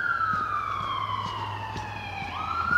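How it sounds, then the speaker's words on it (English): Emergency vehicle siren wailing steadily in its rising and falling pattern, heard outdoors during a walk along a flooded creek trail near a main road, with traffic rumble underneath throughout. "it's not a YouTube walking video until you hear sirens."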